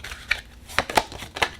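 Oracle cards from a Mists of Avalon deck being shuffled by hand, a few quick papery riffles and soft snaps spaced irregularly, close and fairly quiet with no talking.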